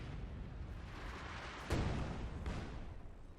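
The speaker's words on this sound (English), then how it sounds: "Z-76 barrage hitting this area" A Z-76 rocket artillery barrage hits an area in Company of Heroes 2: muffled, distant booms over a steady low rumble, with two sharper impacts a little apart.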